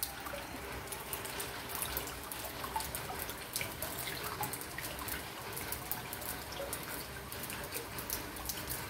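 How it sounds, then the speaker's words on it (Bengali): Rainwater left over from a heavy downpour drips and trickles steadily close by, a soft continuous patter of small drops with faint watery movement and no voices. "টুপটুপ করে জল পড়ছে তাই।"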